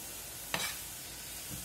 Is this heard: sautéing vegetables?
yes